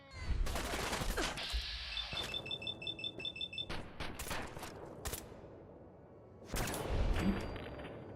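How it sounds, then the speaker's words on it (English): Gunfire from Triggerman enemies in Fallout 4: a rapid burst of automatic shots followed by scattered single cracks and a later loud burst, mid-distance, with other game sounds around it. "So why do we have Triggerman shooting at me now?"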